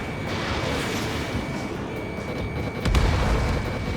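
A jet fighter in Ace Combat 7 fires on a bandit, a loud, steady roar of engine and weapon noise with a sharper burst near the end and a thin high tone running through it.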